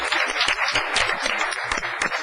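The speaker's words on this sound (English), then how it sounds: "Let's give them a round of applause." Applause from the audience at a city council meeting, a brief steady round of many people clapping together at fairly close range.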